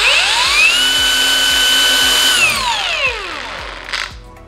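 Ingco cordless lithium-ion angle grinder whirring up to a steady high whine, holding briefly, then spinning down. The sound is loud and close, with a faint rhythmic ticking underneath.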